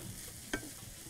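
A pan of meat filling seasoned with salt, pepper and nutmeg gets a single short stir: one quick scrape over a faint, low background.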